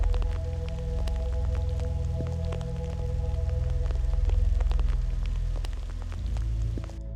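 Cold rain patters steadily on an open grassland, with scattered crisp drip impacts over a continuous low rumble of wind and noise, no voices.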